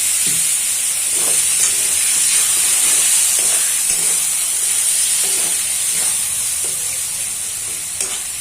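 Mushroom kosha cooks in a pan after mustard-poppy paste and water go in, giving a loud, continuous hissing sizzle with faint stirring scrapes underneath throughout.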